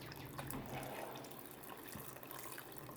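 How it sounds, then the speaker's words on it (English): Lye solution poured into hot oils for cold process soap, a steady, soft liquid trickle running throughout, close and fairly quiet, with no voices. "So now you want to pour it in your hot oils."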